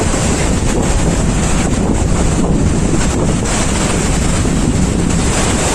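Sea waves wash onto the beach at Mandarmani while strong wind buffets the microphone, a loud, continuous roar of surf and gusts with no talking.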